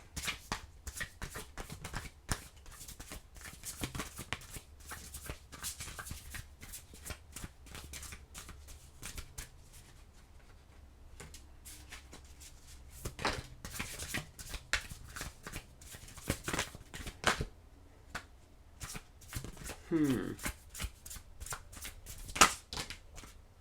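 A deck of tarot cards is shuffled by hand, giving repeated sharp riffles and soft slides in bursts, close and clear, across a long stretch with no talking.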